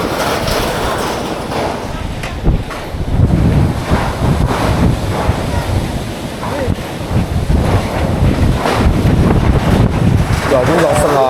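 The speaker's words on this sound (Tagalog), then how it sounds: "lakas ng hangin" Strong wind at a large dam roars continuously and buffets the microphone, with a heavy low rumble and gusts that swell and ease.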